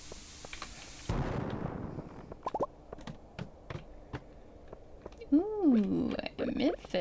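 A cherry bomb blowing up in the Stardew Valley farming game, a sharp burst followed by short clicks and pops, then warbling tonal game effects, with someone talking intermittently over it.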